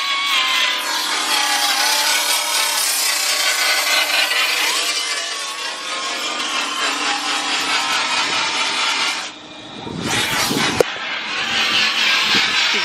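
Metal car fenders on a Mitsubishi Evo X are cut with a power tool, giving a loud, harsh, sustained grinding rasp that dips and briefly breaks off before restarting.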